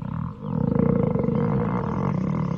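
A long, loud, rumbling stomach growl voiced for a male character in an anime dub, a continuous gurgling drone lasting a few seconds with a brief dip near the start.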